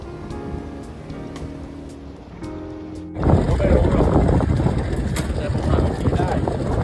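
Sea waves at Hua Hin beach in Thailand, first a soft steady wash under faint music-like tones, then a louder continuous rush of surf with wind buffeting the microphone.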